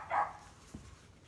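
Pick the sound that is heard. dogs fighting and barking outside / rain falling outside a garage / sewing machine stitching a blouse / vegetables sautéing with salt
dogs fighting and barking outside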